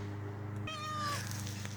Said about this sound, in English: Meow. There's a cat.